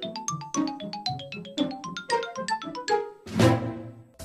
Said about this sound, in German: Der Sound vom Startup-Screen der GameCube